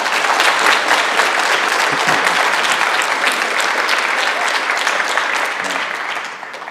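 Loud, sustained applause from an audience at a school board meeting after a public comment, dense clapping throughout that starts to thin out near the end.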